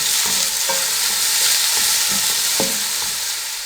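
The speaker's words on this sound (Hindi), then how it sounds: "शिमला मिर्च को मैंने अच्छे से फ्राई कर लिया है" Chopped capsicum frying in a pan, a steady loud sizzle with intermittent clicks and scrapes of stirring, no voices.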